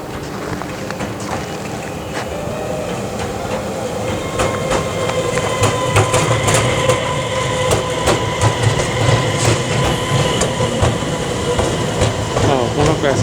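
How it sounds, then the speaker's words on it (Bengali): A delayed train from Kiruna pulling into platform 2 at Luleå station, Sweden, with a broad rolling rumble and rhythmic clicking of wheels that swell louder as it nears, mixed with squeals and metallic clanks. "ট্রেনটা আসছে প্ল্যাটফর্ম নাম্বার 2"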